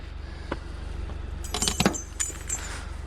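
A bunch of keys jangles in a few quick, bright metallic bursts close by, over the low steady hum of a nearby car.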